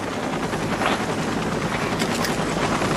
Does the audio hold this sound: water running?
no